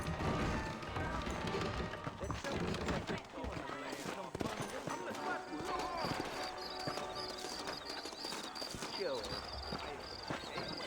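Horses in Red Dead Redemption: a busy clip-clop of hooves with occasional snorts, fairly close, running steadily under people talking and background game sounds.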